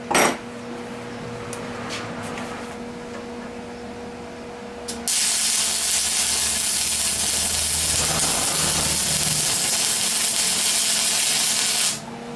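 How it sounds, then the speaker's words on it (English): A MIG wire welder running on metal during fabrication work, heard as a loud, steady crackling hiss that starts abruptly midway and holds for about seven seconds before cutting off. It follows quieter shop noise and a few light knocks. "I'm going to get a really good weld right here"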